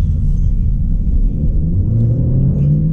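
A 2015 Chevrolet Cruze engine downshifting and accelerating, heard from inside as a loud, steady low rumble that rises slightly in pitch, with no talk.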